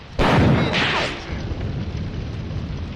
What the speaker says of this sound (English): we're launching 45mm anti-tank